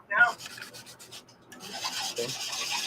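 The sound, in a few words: light sanding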